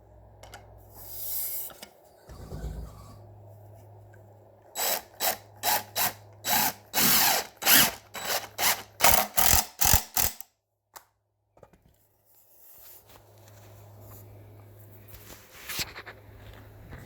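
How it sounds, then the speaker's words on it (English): Power sander working the top of a wooden chicken perch, a series of loud rhythmic bursts roughly a second apart, then stopping, with a quieter mechanical hum before and after. "I'll sand this whole top, make it nice and smooth for them"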